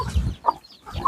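Chickens and ducks at a rural Thai home make two or three short clucks, fairly close against a low rumbling background.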